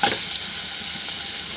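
Singi fish dropped into hot oil in a pan for a fish and plantain curry, a loud hissing sizzle bursting at once and then holding as a steady crackling fry, close and with no talking.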